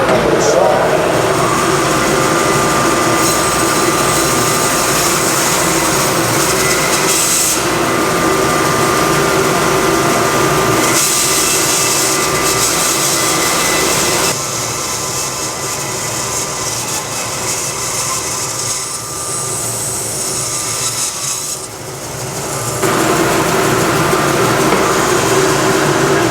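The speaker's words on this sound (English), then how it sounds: "I'm going to start up the dust blower, start up the saw." A band saw and a dust blower run together while bowl blanks are cut from wood, a loud continuous mechanical roar with shifting hiss as the blade works through the slab, and a person talks over it.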